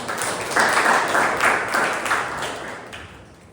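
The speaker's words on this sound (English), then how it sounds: "Please give a round of applause to Toastmaster." A short burst of applause from a small group at a Toastmasters club meeting, clapping swelling quickly then fading away over a few seconds.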